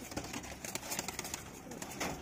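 Pigeons in a loft make soft, low cooing and faint rustling at a distance, a quiet continuous murmur with no talking.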